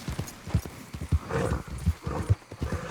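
Horse hooves clip-clopping in Red Dead Redemption 2, a steady trotting rhythm of distinct thuds close by, with a brief whinny-like sound and faint background voice.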